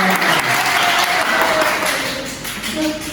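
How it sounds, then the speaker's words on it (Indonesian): A group of students in a school classroom applaud together, a dense, steady burst of clapping that holds loud for a few seconds before easing slightly. "tepuk tangan untuk kita"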